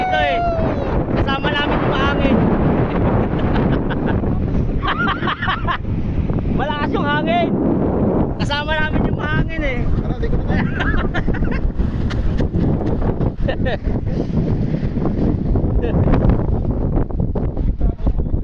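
Strong wind buffets the microphone with a constant loud rush, while people talk and laugh over it and water sloshes nearby.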